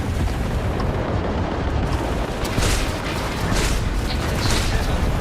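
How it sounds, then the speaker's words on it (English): Ship auto lasers firing in Starfield as a dense, roaring wash of blasts and rumble, loud and unbroken throughout, with no clear voices. "And my auto lasers just get them."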